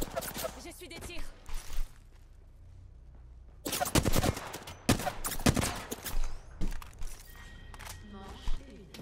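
Gunshots in a video game, with scattered sharp reports at first, then a louder cluster of close shots partway through, set against a low rumbling game ambience.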